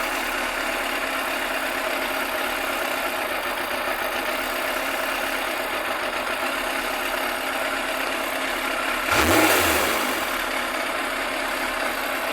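A Yamaha FZR1000 EXUP motorcycle engine idles steadily and loudly during carburettor balancing, then gives one short rev that swells and falls back to idle.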